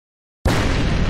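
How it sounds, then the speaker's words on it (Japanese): A sudden loud explosion erupts in a horror video game, a dense, booming blast that bursts in after a moment of silence and keeps rumbling at full strength. "数回に及ぶ爆発は、俺たちが脱出した入り口を破壊し、"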